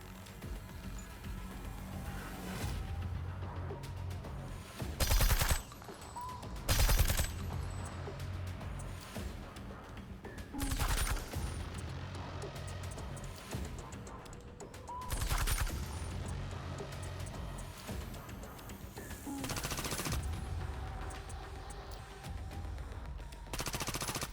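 Automated turrets in the strategy game Reverse Collapse: Bakery Girl fire in repeated short bursts about every five seconds, each a loud rattling volley over a steady background of battle noise.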